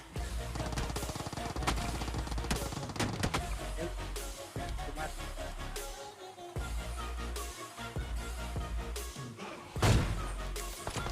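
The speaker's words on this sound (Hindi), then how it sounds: "ये वाला शॉट उसको हिट शॉट पड़ना चाहिए था" Gunfire from a mobile battle royale game played on a Realme 6 phone, with repeated sharp shots and bursts over a busy, dense game soundtrack throughout.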